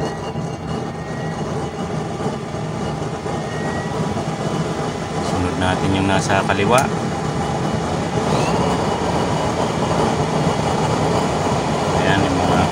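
Blowers on two burner chambers with 32 holes, 6mm thick and 4 inch diameter, run during a flame test, a loud steady mechanical roar throughout while someone talks over it.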